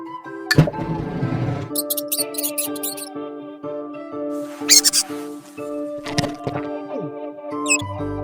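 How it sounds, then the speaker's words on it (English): Cartoonish mouse squeaks from a kids' animal sounds app play in short bursts over light tonal background music. "Mouse."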